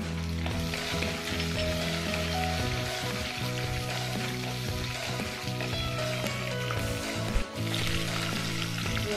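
Dried red chillies and a slit green chilli frying in hot oil with lentils for murungai keerai poriyal, a steady close crackling sizzle throughout with one brief clink near the end and no talk.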